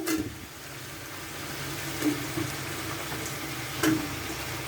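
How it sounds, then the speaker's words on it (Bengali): Eggplant pieces and potatoes fry in a pan with a soft, continuous sizzle, broken by a few faint scrapes of a spoon, quiet and close. "বেগুনগুলো আলুর সাথে মিশিয়ে দিচ্ছি"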